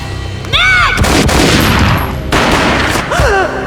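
A booming gunshot in the Max Payne video game, with dense broadband gunfire over a sustained loud stretch and rising-falling synthetic tones at the start and end.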